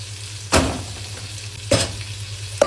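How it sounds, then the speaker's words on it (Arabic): Rice added to a frying pan with shrimp, a continuous low sizzle broken by three scraping stirs of a utensil against the pan, close, no voices. "ادي الرز اهو، نحط عليها كده رز"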